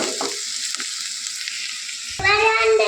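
Onions frying in a pan sizzle steadily, close and fairly loud, with a brief clatter of stirring partway through and a burst of louder sizzling near the end.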